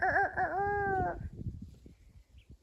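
A young rooster gives a strained, wavering crow for about a second, high and shaky, followed by quieter rustling and low background noise.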